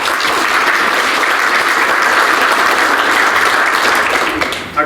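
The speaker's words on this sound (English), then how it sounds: "Let's give him a round of applause." A crowd at a sports hall of fame luncheon and induction ceremony applauds steadily and loudly, dense clapping sustained throughout without a break.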